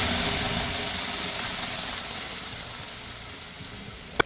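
Boiled dal poured into a pan of frying bitter gourd gives a steady hissing sizzle that fades gradually, ending with a brief sharp clink near the end.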